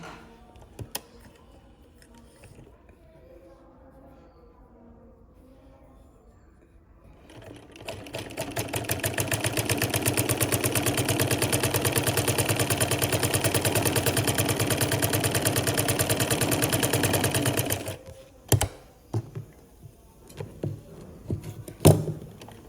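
Sewing machine stitching homemade warm socks, a steady close mechanical whir running continuously for about ten seconds after a quiet start, then stopping, followed by a few sharp handling clicks.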